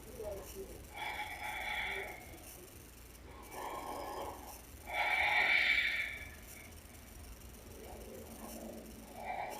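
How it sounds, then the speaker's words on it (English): Exaggerated, forced breaths during a bodyweight circuit, with loud hissing inhales and exhales in several separate bursts, heard up close with faint background noise between them. "Over exaggerate your breath, forcing the inhale and exhale."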